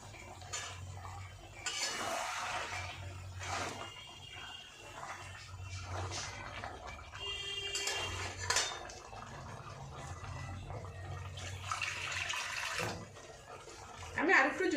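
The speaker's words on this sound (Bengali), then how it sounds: "জল দিয়ে দিচ্ছি" Water poured into a pan of pabda fish curry made with coconut and mustard paste. Splashing mixes with repeated utensil clatter against the pan, and a voice talks quietly at times.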